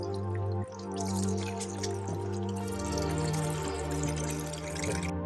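Liquid pours out of a Roush car intercooler in a steady trickling stream with occasional drips, fairly quiet, accompanied by a low background hum.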